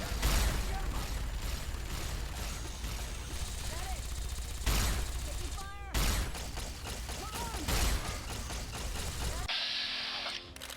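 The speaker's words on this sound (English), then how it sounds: "It's fun to shoot at them." Gunfire in Fallout: Tale of Two Wastelands comes as rapid bursts of shots and mechanical clatter. A voice talks intermittently over the busy game audio.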